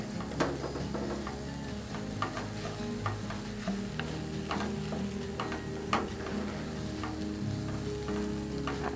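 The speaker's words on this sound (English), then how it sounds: "Get that rice to browning a little bit." Rice browning in a pan with sausage, a steady, dense sizzle of frying that runs throughout, with repeated scraping stirs and occasional sharp clicks of the utensil against the pan, close and continuous.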